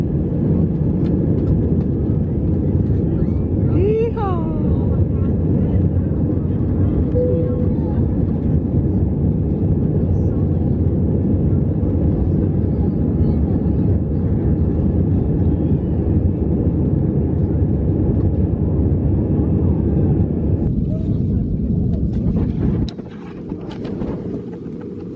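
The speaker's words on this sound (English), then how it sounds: "This aircraft is turning right back around to go to another Allegiant destination." Cabin noise aboard an Allegiant airplane during taxi and takeoff, a steady loud roar of engines and airflow that holds for most of the stretch before easing near the end, with a brief voice early on.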